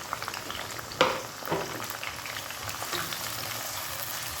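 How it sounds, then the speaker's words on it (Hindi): Onions sizzle gently in hot oil for a degi-style palak gosht, a soft continuous frying hiss broken by a couple of sharper stirring clicks, fairly faint and with no talk. "जब ऑयल अच्छे से गर्म हो जाए तो उसमें प्याज डालेंगे। प्याज को हल्का सा फ्राई करना,"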